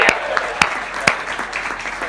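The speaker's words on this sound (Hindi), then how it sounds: "एक बार तालियां हो जाए भाई" Audience clapping at a Hindi hasya kavi sammelan comic poetry gathering: a lively crowd applauds with several sharp, loud individual claps popping out above the ragged clatter, and faint voices mixed in.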